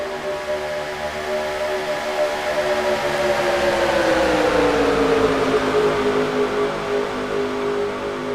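Stock cars racing side by side at Atlanta in NASCAR Racing 2003, a steady loud engine drone whose pitch slowly rises and falls as the pack runs close together, with no voices.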